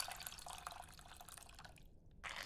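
Liquid dripping and trickling through a sieve in a video game cooking task, a steady soft patter of drops that runs for about two seconds, then a brief silence before the dribbling resumes.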